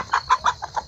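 A rooster on a small rural farm gives five quick, evenly spaced clucks at close range, clear and alone against a quiet yard background.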